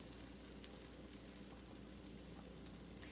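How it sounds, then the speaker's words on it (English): Keto flat bread frying in a pan gives a steady, faint sizzle with light crackles throughout and no talking. "we're gonna let that fry just a little bit longer there"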